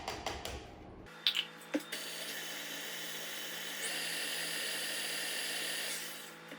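Electric stand mixer whirring steadily as it stirs vegan chocolate chip cookie dough with almond milk, a sustained motor hum that starts after a few clunks and runs continuously, close and fairly loud.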